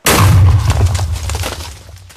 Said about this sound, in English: Controlled explosion for you.